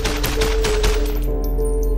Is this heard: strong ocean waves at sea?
no